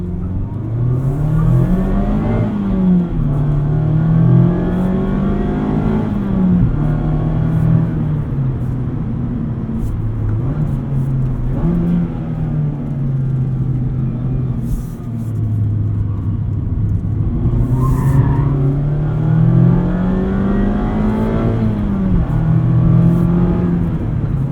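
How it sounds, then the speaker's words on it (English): Engine of a 2024 Mazda MX-5 Miata RF Club (ND3) droning steadily inside the cabin while driving, its low hum rising and falling with revs over about twenty-five seconds, loud and continuous with no talking. "so we get a little bit more engine noise in the cabin"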